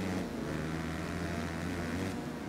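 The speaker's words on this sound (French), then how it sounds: "Je sais pas si vous entendrez bien le bruit du moteur" A stock, unmodified Yamaha motocross bike in MXGP3 at Matterley Basin, its engine a steady droning buzz that holds a constant pitch throughout with no revving or acceleration.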